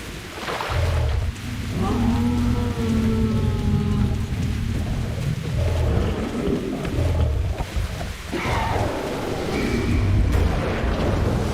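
Steady rain falling on a gas mask and murky surroundings in the video game Metro: Last Light, a continuous loud hiss of drops with low rumbling game ambience and tonal effects layered underneath.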